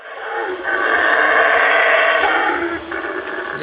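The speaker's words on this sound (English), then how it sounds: "I'm going to play the sound of a howler monkey." A loud, rough roaring howl of a howler monkey rises and holds steadily for a few seconds before easing off, sounding like played-back audio.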